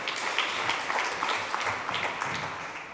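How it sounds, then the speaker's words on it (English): An audience at a neuroscience lecture applauds steadily after a talk, a faint, dense wash of many hands clapping at a distance. "Let's give another round of applause to Tanja Singer"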